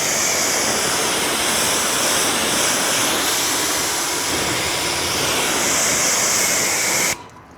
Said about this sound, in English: I'll go ahead and finish rinsing this off.